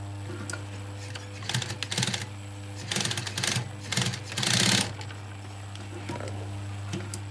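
A sewing machine stitches a leather jacket facing in short bursts of rapid mechanical clatter separated by pauses, close and fairly quiet over a low steady hum.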